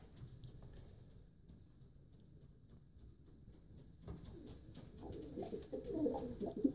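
A racing pigeon coos softly up close, low murmuring calls over a quiet background that grow louder and busier toward the end.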